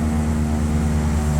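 A propeller aircraft engine in the Prepar3D flight simulator drones as it is throttled back in flight. It is a loud, steady, close hum with a strong low tone and no talk.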